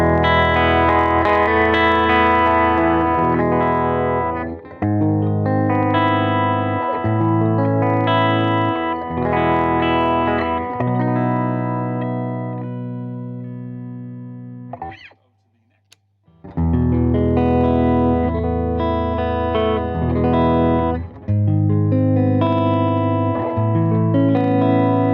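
Ibanez AS63 semi-hollow electric guitar played clean through an amp, with sustained strummed chords ringing out in phrases, a brief pause near the middle before playing resumes.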